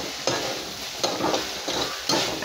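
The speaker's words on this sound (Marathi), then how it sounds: "थोडं फुल गॅसवर आपण तळसून घेऊया" Okra (bhindi) frying on a high flame, a bright continuous sizzle broken by three or four scraping stirs, close and moderately loud, with no voices.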